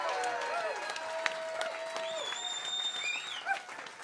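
A concert audience at a Celtic Christmas show claps for a singer, the applause moderately loud and steady, with high whistles and cheers cutting through near the end.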